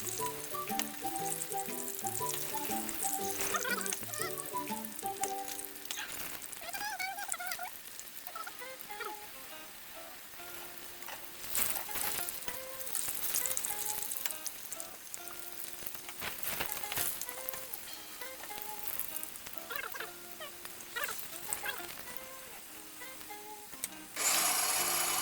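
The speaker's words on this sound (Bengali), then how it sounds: "এবারে গরম তেলের মধ্যে আলুগুলোকে এক এক করে ছেড়ে দিলাম।" Potatoes frying one batch in hot oil in a wok, a steady close sizzle with bubbling and crackling that lasts throughout, along with occasional scraping and stirring noises.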